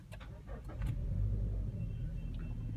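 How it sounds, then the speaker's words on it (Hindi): A 2016 Toyota Land Cruiser engine is started by push button, a brief starter whirr and catch settling into a low, steady idle rumble close by, with a few faint clicks at the start and no talk. "मैं पुश स्टार्ट बटन से इसको स्टार्ट करता हूँ।"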